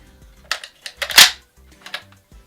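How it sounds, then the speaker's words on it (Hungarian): A VFC G3 gas blowback airsoft rifle is cocked and dry-fired indoors, a series of sharp, close mechanical clacks and snaps with one louder metallic crack, separated by short silences. "A fegyver ugye szépen föl kell húzni és elsüthető"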